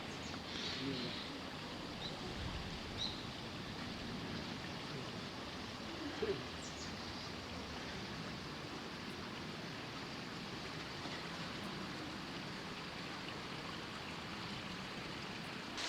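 Soft, steady flowing water of a mountain stream on Dohilbong, Yangpyeong, Korea, murmurs in the background, faint and continuous, with a few small knocks and a brief voice-like sound.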